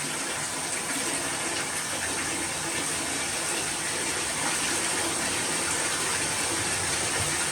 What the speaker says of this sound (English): Water in the toilet actually is already all drained out.